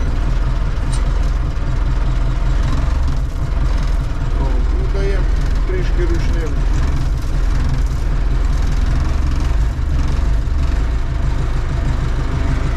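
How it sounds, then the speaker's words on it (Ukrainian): A DongFeng 404 tractor's diesel engine runs at a loud, steady low rumble after a frosty start, close up throughout, with people talking over it. "Зараз він трошки провернеться, чуть-чуть сам візьме оберти"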